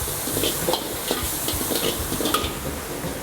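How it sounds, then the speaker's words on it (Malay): Egg frying in oil with shallots and garlic for fried rice, a steady close sizzle broken by repeated scraping and clinking of a utensil stirring in the pan, with no voices. "kita goreng-goreng dia sampai dia naik bau garing"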